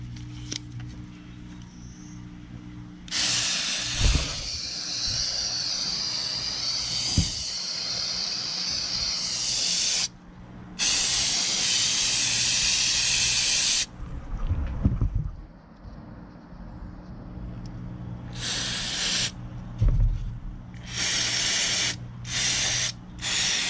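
Long hissing bursts from a spray can of cleaner aimed at the mass airflow sensor of a Mercedes-Benz W204 C-Class, several sustained sprays and shorter puffs close up, with brief pauses and clunks between them.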